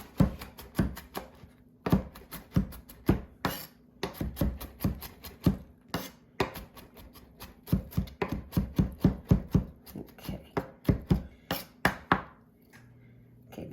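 A knife chopping on a board while preparing a fresh pasta sauce: rapid, crisp, close knocks in irregular bursts, some quick runs and short pauses, with no talking.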